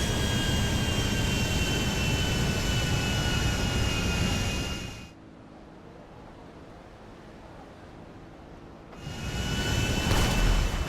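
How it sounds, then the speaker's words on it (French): A large jet airliner's engines roar loudly in GTA 5 during a landing, then drop out abruptly to a quiet hum for about four seconds before surging back to a full roar. "j'ai jamais atterri avec un gros avion comme ça"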